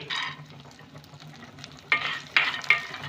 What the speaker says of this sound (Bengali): কাজুগুলোকে একটু আমি ভেজে নেব